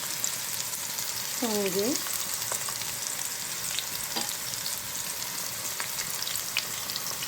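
Onion paste frying in a pan while cooking chicken balls with gravy, giving a steady, dense sizzle and crackle throughout, with a brief spoken word partway through.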